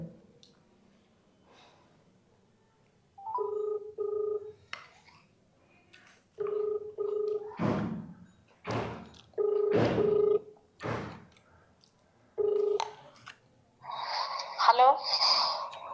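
A phone rings indoors in a home, repeating its tone in short bursts spaced a couple of seconds apart, with voices and breathing heard between the rings.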